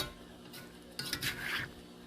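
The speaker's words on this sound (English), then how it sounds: "I think I need to toss up those onions" Onions tossed in a hot pan, a short burst of scraping and rustling clatter with a brief sizzle, fairly faint and close, with no talking.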